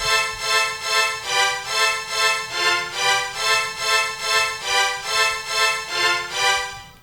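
A bright synth repeats a major-chord stab in a steady looping rhythm, about fourteen evenly pulsed hits with a swelling attack, loud and alone as part of a futuristic trap-style beat.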